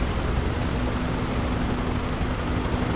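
A helicopter in Microsoft Flight Simulator 2024 running steadily: a constant dense engine and rotor drone with a faint tonal whine, with no voices.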